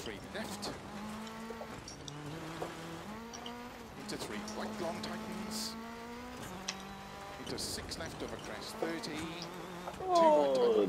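Rally car engine in Dirt Rally 2.0, revving and shifting through gears on a New Zealand stage with steady engine drone, pitch rising and falling, and a louder surge near the end; someone talks throughout.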